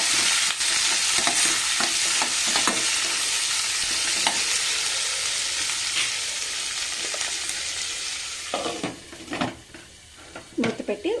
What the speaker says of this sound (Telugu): ఈ ఉల్లిపాయ, పచ్చిమిరపకాయలు 1-2 నిమిషాల పాటు తాలింపులో వేగనివ్వండి